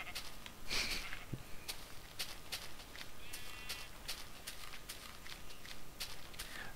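Scattered video-game sheep bleats sound at moderate distance alongside clicks and light footstep-like taps, with no one talking.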